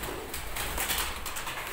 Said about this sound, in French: Il y a des pigeons